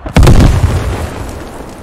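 A loud explosion in the military shooter game Squad, a sudden heavy boom that rolls off into a long rumbling decay, with no voices over it.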